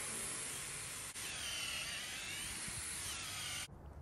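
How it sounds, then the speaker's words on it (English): A power drill bores through a wooden swing set beam, a loud, steady whirring grind held close for several seconds before cutting off abruptly. "Mark the hole and then drill all the way through to connect the two holes."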